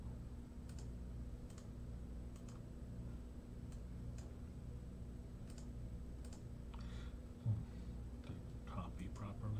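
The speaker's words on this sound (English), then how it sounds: "So let's type that." Faint, sparse clicks of typing on a computer keyboard under a steady background hum, with a soft murmur of speech near the end.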